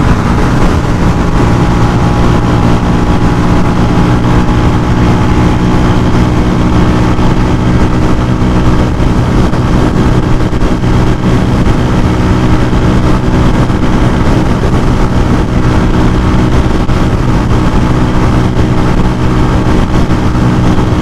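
A Honda CG 125 motorcycle rides at speed along a busy highway, its engine drone and wind noise loud and constant from the rider's position with no pauses.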